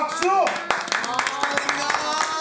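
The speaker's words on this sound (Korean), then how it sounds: "불실장 1등 박수" People at an office gathering clap for the first-place winner, scattered handclaps under ongoing talk and an exclamation at the start.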